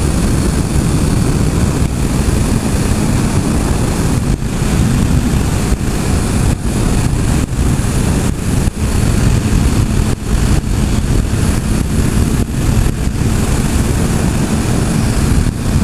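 A 2014 Honda CBR650F motorcycle engine drones steadily while riding in sixth gear, loud and constant, mixed with heavy wind rush and no talking.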